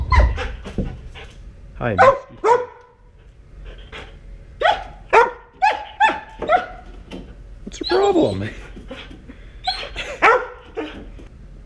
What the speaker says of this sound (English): My dog's a bit of a nut, so I've went ahead and locked her in the garage